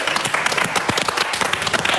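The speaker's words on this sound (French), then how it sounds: "Allez, on peut applaudir Olivier." An audience at the Fort Boyard treasure room bursts into steady, dense applause, loud and close, with many hands clapping continuously and a few cheers mixed into the wash.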